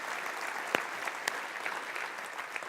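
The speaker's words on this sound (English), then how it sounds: "We're going to applaud the generosity" A church congregation applauding in a sanctuary, a steady patter of many hands clapping at moderate distance, with a couple of sharper nearby claps standing out.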